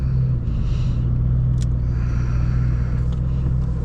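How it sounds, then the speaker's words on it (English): A 2003 Cobra drives along with a loud, steady, deep engine rumble heard from inside the car, with faint higher clicks and road noise on top. "Car is driving phenomenally."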